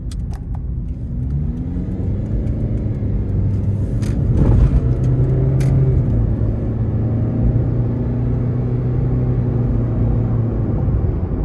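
A 2012 Scion iQ pulls away in city driving, its small engine rumbling steadily from inside the cabin with a rising rev partway through, continuous and fairly loud with no talk.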